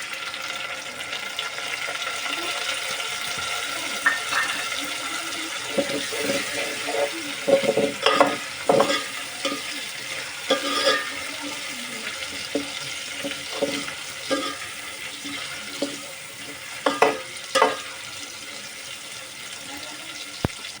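Onion, garlic and tomato frying in a pan for a fish curry, with a low sizzle broken by intermittent stirring scrapes and clatters close by, and a voice speaking over it.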